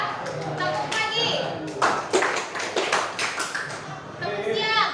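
Children in a classroom clap together in a morning clap routine, sharp rhythmic hand claps in short bursts with a teacher's voice and kids talking between them.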